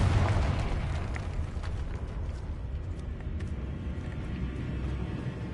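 The Confringo fire spell explodes in the Hogwarts Legacy video game with a deep rumbling blast. The boom is strongest at the start and trails off into a sustained low roar at moderate level.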